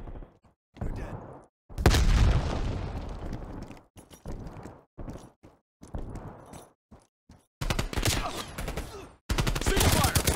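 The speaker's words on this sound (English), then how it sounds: "Throwing grenade." Gunfire and a grenade blast in a shooter video game: short clustered bursts of shots separated by gaps, with a loud, dense explosive stretch early on and more heavy bursts near the end.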